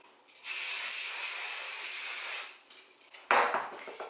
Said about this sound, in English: I'm just gonna go ahead and spray my hair. A little bit more hairspray.